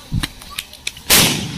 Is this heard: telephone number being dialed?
no